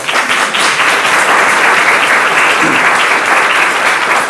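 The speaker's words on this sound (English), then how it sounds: "Can we give Lavon another round of applause?" Loud, sustained applause from a luncheon audience at a Student Youth Enrichment Program event, honoring a participant; dense, steady clapping filling the room without letup.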